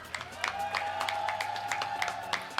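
Audience applause at the Global Excel Summit 2024 for a second-place winner: a steady wash of clapping with sharper individual claps standing out, moderate in level, and a faint tone running beneath it.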